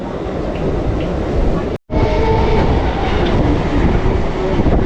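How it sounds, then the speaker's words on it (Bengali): A local train from Canning to Sealdah roars along the rails with a loud, steady rumble and clatter, briefly cutting out before the rolling noise resumes. "ক্যানিং থেকে ট্রেন ছেড়ে বেরিয়ে যাচ্ছে শিয়ালদার উদ্দেশ্যে"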